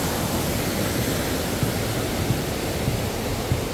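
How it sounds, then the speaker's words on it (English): A waterfall on a snowy mountain backpacking route rushes in a continuous, even broadband roar, steady and fairly close with no voices. "Give you another gorgeous view of that waterfall."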